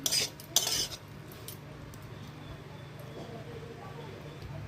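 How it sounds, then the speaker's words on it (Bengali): A metal utensil clatters against a pan while soybean curry is stirred and fried, giving two sharp scraping knocks near the start. A low, steady background hum continues after them. "এখানে কষাচ্ছি সয়াবিনটাকে"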